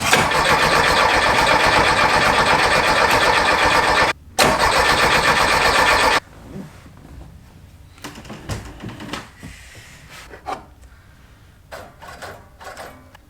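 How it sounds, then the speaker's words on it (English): A carbureted VW engine in a Meyers Manx buggy cranks loudly on the starter in two long bursts with a brief gap, then cuts off, leaving faint clunks and shuffling nearby. "I'm gonna do a little cranking first, see if we can get the fuel pump to suck some from the gas tank"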